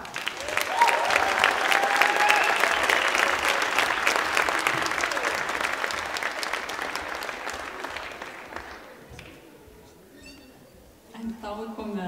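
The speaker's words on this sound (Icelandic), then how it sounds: "Eigum við ekki að gefa ótrúlega gott klapp" An audience at an autumn team-gymnastics meet in the boys' categories claps loudly and steadily for about nine seconds before the applause thins out, leaving a few scattered claps and faint voices.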